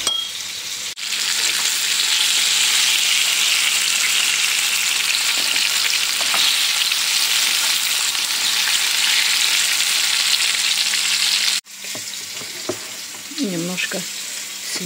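Fish fries in a pan with a loud, steady sizzle that runs almost unbroken, dropping out briefly twice; a faint voice is heard near the end.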